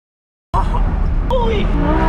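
A Lamborghini engine bursts into a loud revving roar under throttle after a brief silence, its harsh, rising note sustained close to the listener until the end.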